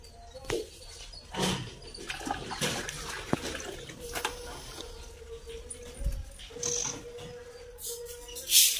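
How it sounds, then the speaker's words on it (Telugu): Water running and splashing in bursts as rice is washed at home in a village kitchen, close and intermittent, with a brief whistle-like tone and faint background noises. "అమ్మ బియ్యం కడిగి పెడుతుంది."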